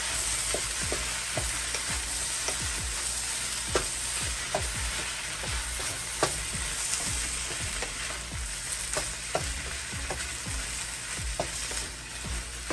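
Seafood fried rice with bacon and crawfish stirred in a pan, a steady close sizzle with repeated scraping strokes of the spatula across the metal throughout, no voices.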